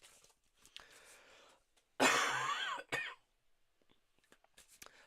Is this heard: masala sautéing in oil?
no